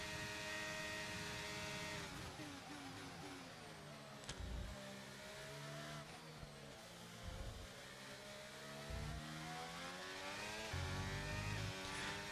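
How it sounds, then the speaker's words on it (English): A Formula 1 car engine in F1 23, a Ferrari coming up, whines steadily at high revs, with pitch rising and falling through gear changes and a few low thumps, and no talk. "Here comes that Ferrari again."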